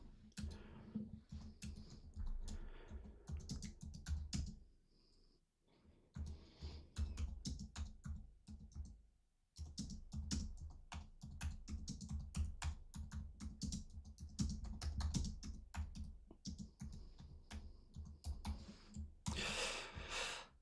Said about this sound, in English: So let me type it out first.